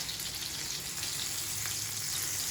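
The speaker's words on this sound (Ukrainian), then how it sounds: "Гречка наша вже зварилася і будемо перевертати наші котлетки" Chicken fillet mince cutlets fry in a pan with a steady, bright sizzle and crackle, close and constant, with no voices.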